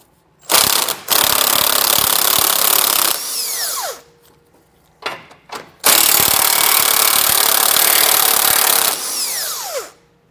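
A ratcheting socket wrench or power tool spins off 21mm bumper nuts on a 2022 Ford in two long, loud, close bursts, separated by a few short clicks and pauses, with no talking.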